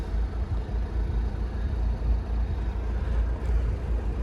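A 2012 Mercedes-Benz SLK250 CDI BlueEFFICIENCY diesel idles steadily with a low, even rumble and a faint clatter, with no voices over it.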